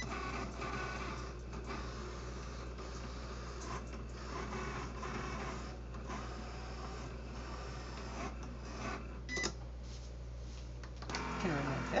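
A Cricut Explore One cutting machine runs with a steady mechanical whir and a low motor hum, carriage movements and small clicks breaking through, close and continuous for the whole stretch with no talk.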